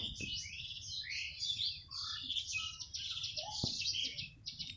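Small birds and chicks chirp outdoors in a dense, continuous high twittering that stays steady and moderately loud, with one dull thump near the end.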